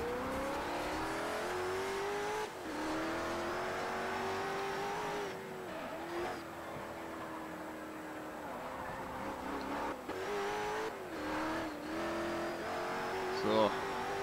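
A car engine in the Forza Horizon racing game whines steadily under load as the car slides out, rising and dipping in pitch with shifts, with faint tire noise and a voice talking over it.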